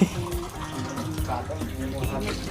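Water running and splashing into a glass at home, a continuous close hiss and trickle lasting a couple of seconds with faint voices behind it.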